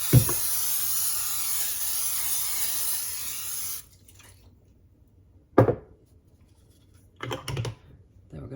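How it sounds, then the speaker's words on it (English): Nonstick cooking spray hisses steadily onto a baking dish for several seconds, then stops, followed by a few sharp clatters of the dish being set down. "We're going to start by spraying a baking dish with some nonstick cooking spray."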